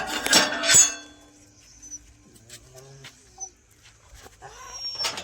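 Two or three dogs sit outside at night, waiting to be fed milk and roti, and give soft, high whimpers and whines. Light clinks and faint background voices surround them.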